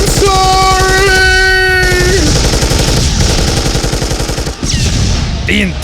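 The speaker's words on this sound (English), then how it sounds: "The intense firefight only lasted for an hour" An intense firefight pours out loud, continuous rapid gunfire for several seconds. Sustained tonal wails and music ride over the rattling bursts.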